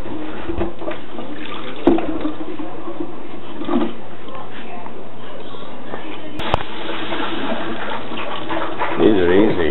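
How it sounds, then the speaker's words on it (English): Water running outdoors from an untreated well water source, a steady low trickle and splash throughout, with a few sharp knocks and some rustling near the end. "there's water going somewhere."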